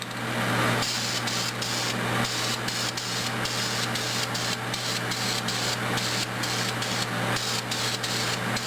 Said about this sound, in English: I just sprayed my entire model with hairspray